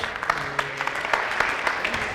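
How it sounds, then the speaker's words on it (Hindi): Audience clapping on a televised talent-hunt quiz game show, a steady patter of many hands at moderate volume, rising briefly in bursts and continuing for a couple of seconds. "अरे भाई तालियां होनी चाहिए भाई"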